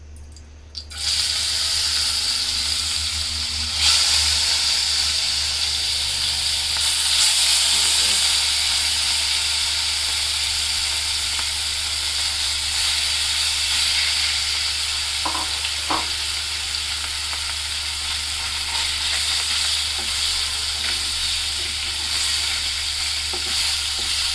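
Desi rui fish rubbed with turmeric and salt fries in hot oil, a steady loud sizzle running unbroken throughout with a few faint clinks and scrapes.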